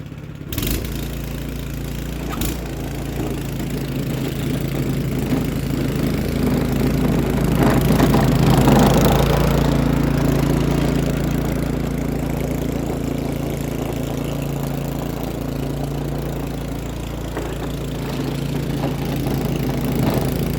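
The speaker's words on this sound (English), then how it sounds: "now we're going to test out the snowblower with the products I sprayed in there and see how much further it throws the snow" A snowblower engine runs steadily while throwing snow, a continuous mid-pitched drone at close range, swelling slightly in the middle before settling, with no voices.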